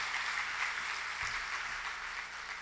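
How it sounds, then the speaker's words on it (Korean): A church congregation at a Wednesday evening service claps together, a soft, even wash of applause heard from a distance and fairly quiet throughout. "하나님 앞에 박수로 영광 돌리겠습니다."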